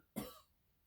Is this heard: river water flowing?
no